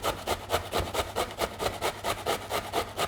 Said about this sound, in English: just grate your required amount, which is just under 300 grams